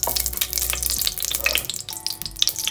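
Two spoonfuls of pure ghee sizzle and crackle in a hot pan while cooking saffron rice, a dense, steady fizz of popping bursts heard close up with no talking.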